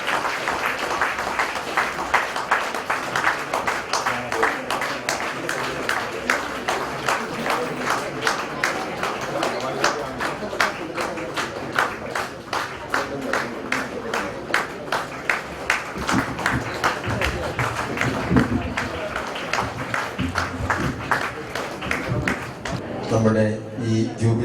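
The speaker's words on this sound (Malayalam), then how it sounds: "എല്ലാവരും കൈയടിച്ച് പ്രോത്സാഹിപ്പിക്കുന്ന വിനീതമായി അഭ്യർത്ഥിക്കുന്നു" An audience claps steadily at a jubilee ceremony honouring former teachers, a long, even wash of many hands applauding throughout with crowd murmur beneath, fading slightly at the very end.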